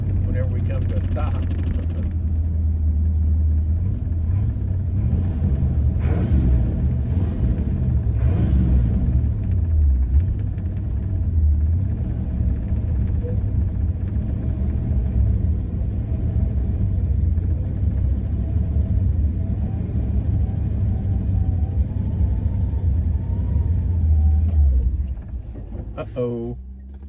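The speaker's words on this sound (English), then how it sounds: "I'm doing the old neutral rev whenever we come to a stop." A 1960 Cadillac Series 62, freshly revived after sitting in a barn, rumbles with a deep, steady engine drone while out on the road, loud and continuous throughout before fading at the end.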